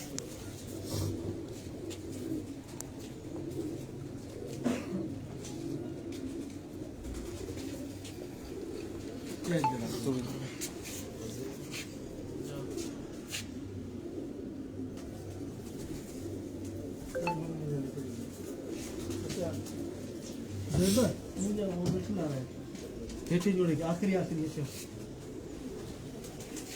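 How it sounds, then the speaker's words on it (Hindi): Domestic pigeons at home in a rooftop loft coo in soft, low, repeated bursts, heard under steady conversation and light clinking, fairly close throughout. "ये जी हमारे घर के कबूतर है।"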